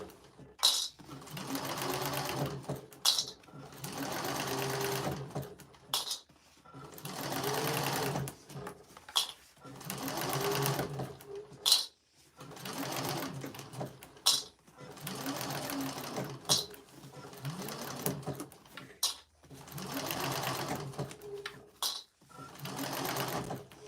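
A sewing machine stitches binding onto a bowler bag in repeated whirring runs of several seconds each, separated by short pauses. Its motor hum rises and falls close by.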